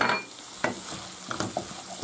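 Tomato sauce being stirred into a seafood cream in a pan, a few soft scraping strokes over a faint sizzle, close and quiet with no voices.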